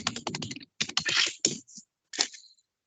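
Computer keyboard typing during work in Revit, with short bursts of close, crisp key clicks separated by brief pauses.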